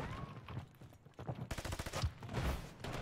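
Video game gunfire, a burst of rapid automatic shots in the second half, fairly close and dense, following a quieter stretch of scattered sounds.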